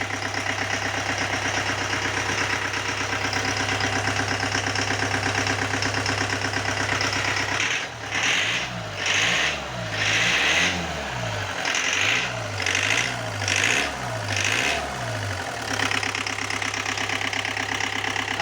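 Rover 45 TD diesel engine idling after an injection pump conversion, a steady low mechanical drone that turns into a rhythmic knocking, pulsing run partway through, close and fairly loud.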